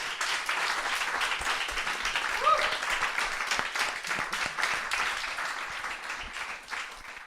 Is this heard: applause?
yes